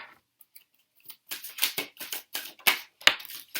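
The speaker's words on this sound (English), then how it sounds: "They just sometimes get caught in the middle of the deck and they make a really loud sound." Rapid, crisp riffling and slapping of tarot cards being shuffled, a loose burst of papery snaps building after a quiet start, with a couple of sharper clacks near the end.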